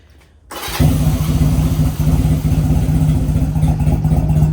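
A Honda Rebel motorcycle engine cranks and catches after a short quiet moment, then settles into a loud, close, steady idle with a rapid even pulse, alone without talk.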